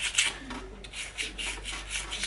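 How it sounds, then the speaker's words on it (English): Rhythmic sanding strokes on the metal ports of an air-gun regulator, a raspy scraping repeated back and forth several times in quick succession, close up and alone. "now I'm just sanding"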